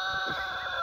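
A rooster crows briefly on a farm that keeps geese and poultry, a short, sustained, fairly close call heard on its own.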